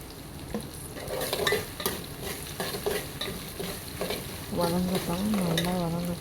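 Onions and tomato sautéing in a pan for sardine curry, stirred briskly: a close sizzle broken by repeated spatula scrapes and clinks, with a brief tonal, voice-like sound toward the end.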